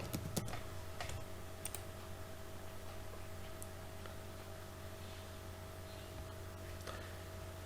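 A computer keyboard is typed on to enter a security answer, with quick bursts of light key clicks at the start, then sparse scattered taps over a quiet electrical hum.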